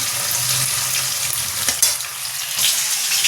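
Paneer cubes frying in a pan with capsicum and potato, a close, steady crackling sizzle of hot oil throughout with brief stirring scrapes and no talking.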